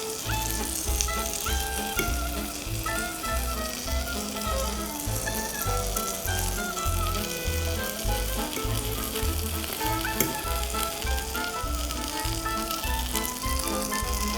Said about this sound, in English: we're going to cook the tsoureki about 2 to 3 minutes on each side, or until it's really nice and golden